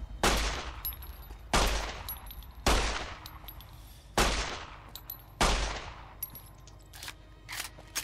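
Gunfire in Fallout: New Vegas: five loud, sharp shots spaced about a second apart, each with a decaying tail, followed by a few fainter metallic clinks and lighter pops near the end.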